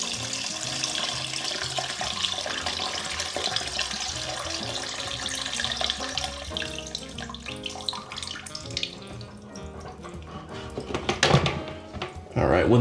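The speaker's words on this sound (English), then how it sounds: "tilt the fill valve at an angle that gives me more control and direction over the water flow, and let the water empty into the bucket" Water from a partly drained toilet tank runs out of a tilted fill valve into a bucket during a Kohler toilet repair, a steady close splashing flow that swells briefly near the end, with talk over it.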